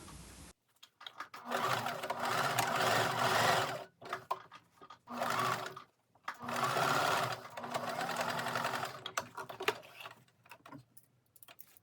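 A sewing machine stitching a zipper pocket onto a fabric tote bag: long, steady runs of rapid mechanical whirring and ticking, close and loud, separated by brief pauses and short bursts.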